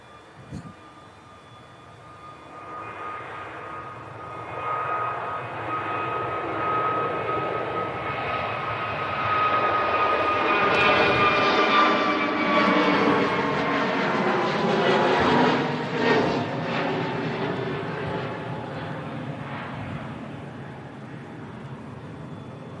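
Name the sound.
Qatar Airways A350 jet departing Manchester Airport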